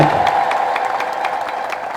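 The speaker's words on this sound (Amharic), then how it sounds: "ለእግዚአብሔር ክብር እስቲ ሁላችንም እናጨብጭብ።" A church congregation claps together during an Amharic sermon, making steady rhythmic hand claps about four per second, close and continuous beneath a faint crowd murmur.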